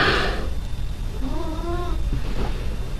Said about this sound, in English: It's my cat contributing.